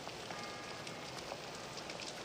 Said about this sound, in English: It rained even harder than this at the boathouse.